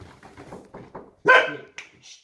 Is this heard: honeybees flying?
no